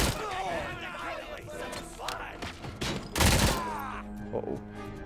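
Gun firing with strong recoil in the Robocop Rogue City video game, bursts of loud, close shots and impacts amid game effects, with a person talking over the action.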